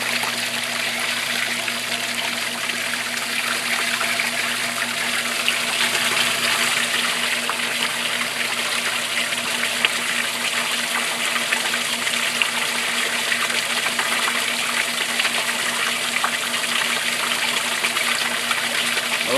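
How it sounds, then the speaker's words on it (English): Water from a pump pours steadily through a Cetus pond sieve filter, a continuous loud gushing rush with a faint constant pump hum underneath, close by and unbroken throughout. "We're moving a lot of water right there."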